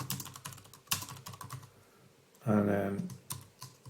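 Typing on a computer keyboard to enter a prompt into ChatGPT: a close, steady run of clicky keystrokes with one louder burst of noise partway through and a few brief spoken words.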